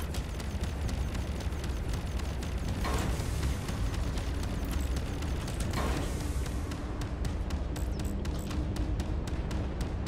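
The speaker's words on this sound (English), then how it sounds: "Missiles!" Missile explosions in the space combat game Fractured Space, a steady dense rumble punctuated by two bursting blasts and a run of rapid crackling impacts toward the end.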